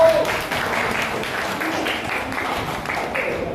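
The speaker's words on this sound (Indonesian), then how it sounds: "kita tepuk tangan untuk nomor 1" Applause from a group of teachers at a school presentation session, a moderate, steady patter of many hands lasting a few seconds, with faint voices mixed underneath.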